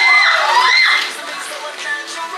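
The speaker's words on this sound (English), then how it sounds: "A round of applause for her too." An audience at an ethnic cultural show cheers and shouts loudly, with high excited voices, some children's among them, bursting out at once and then settling into a softer crowd hubbub.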